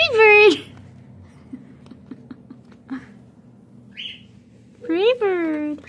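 A small pet bird gives clear, bright whistled chirps up close at the start and again near the end, with quiet, sparse clicking sounds in between.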